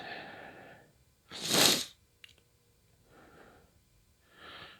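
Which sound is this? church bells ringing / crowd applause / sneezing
sneezing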